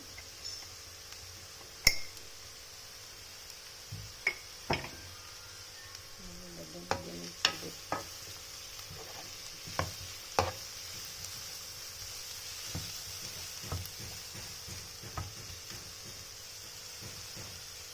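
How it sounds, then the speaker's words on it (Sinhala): Soft, steady sizzle of chili pieces frying in oil with scattered sharp clicks and taps from a utensil in the pan, fairly quiet throughout. "මේ කෑලි මිරිස් ටිකත් අපි චුට්ටක් තෙලේ බදින්න දෙමු."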